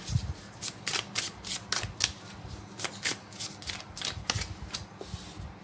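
Tarot cards being shuffled by hand: a steady series of close, crisp riffling bursts, roughly two per second, with no voice over them.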